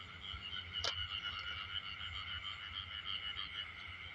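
Frogs croaking outdoors in a rural Thai rice field at night, a steady chorus of overlapping high trills with low pulsing calls beneath and one sharp nearby croak.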